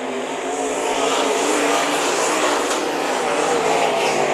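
Dirt track race cars roar past at Bakersfield Speedway during a heat race in the Mike Moshier Classic, a loud sustained engine snarl that swells as the cars go by, with no voices over it.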